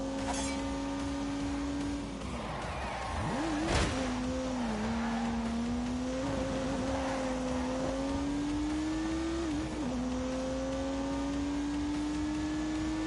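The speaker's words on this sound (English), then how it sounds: "unleashed 365 rampaging horsepowers from the turbocharged 3-litre straight six" A car with a 365-horsepower turbocharged 3-litre straight-six engine accelerates in a racing video game, its steady engine drone rising in pitch through several gear changes, with a sharp thump and skid partway through, continuous and fairly loud.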